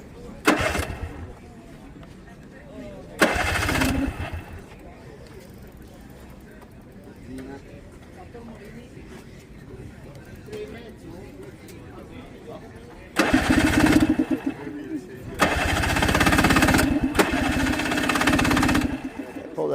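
A two-stroke Benelli motorcycle engine, shown at the Benelli moto club in Pesaro, Italy, fires up in loud bursts, first briefly near the start and then in sustained revving runs toward the end, with people talking in between.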